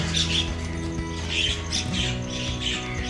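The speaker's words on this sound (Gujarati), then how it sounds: "આ બાજુ કાકડા ને કાબરો આવી ગઈ" Crows and mynas calling near a house in the morning: repeated harsh squawks and chattering calls overlapping continuously at moderate distance.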